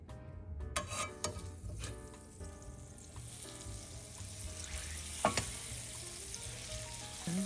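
Butter sizzling and frying in hot brown sugar syrup for peanut brittle, a steady crackling hiss with occasional stirring clatter, fairly near and moderately loud with no talk.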